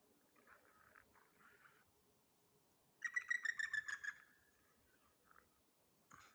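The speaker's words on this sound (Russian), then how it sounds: "Нет, это какая-то другая птица." A wild bird in a quiet winter setting gives a faint, scratchy chatter, then a louder burst of rapid, clear chirping notes at middle distance, followed by scattered softer calls.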